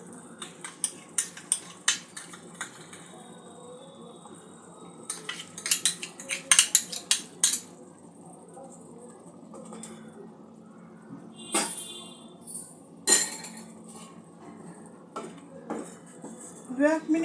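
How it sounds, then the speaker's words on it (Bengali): A spoon stirring milk powder into a little water in a small metal bowl, rapid sharp metallic clinks and scraping in bursts, close and clear against a quiet background. "মিল্ক পাউডারটা একটু জলে গুলে গ্রেভির মধ্যে অ্যাড করব।"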